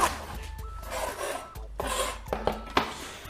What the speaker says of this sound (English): We're going to cut the top off with a nice, sharp, serrated knife.